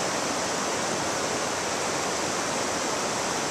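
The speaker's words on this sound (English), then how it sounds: "Beautiful river, you guys can see it." A river near Tuolumne Lodge in Yosemite rushes steadily and loudly at close range as an unbroken wash of flowing water, with no voices over it.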